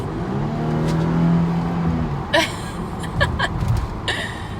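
A Mercedes car fitted with a Pedal Commander throttle controller pulls forward under acceleration, engine hum rising steadily from inside the cabin before a few brief sharp clicks and knocks.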